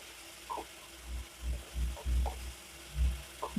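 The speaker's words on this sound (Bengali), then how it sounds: "এবার মশলাটাকে ভালো মতো ভেজে নেব।" Masala with red chili powder and four slit green chilies fries for an okra and shrimp dish, with a steady low rhythm of about five dull stirring scrapes and thumps in the pan and only faint sizzle beneath.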